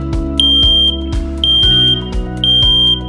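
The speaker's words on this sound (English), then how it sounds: "Warning, smoke detected in kitchen." X-Sense XP02-WR combination smoke and carbon monoxide detector alarm sounding, loud piercing high beeps repeating roughly once a second, close up and alone.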